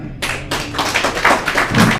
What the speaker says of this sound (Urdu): شہر ادب میں آپ کا استقبال تالیوں کے ساتھ۔